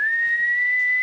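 A single person whistles one steady, sustained high note, close and clear, with no talk over it.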